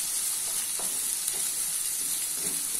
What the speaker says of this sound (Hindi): ऑनियन को अभी मीडियम फ्लेम पे गोल्डन ब्राउन होने तक फ्राई कर लेना है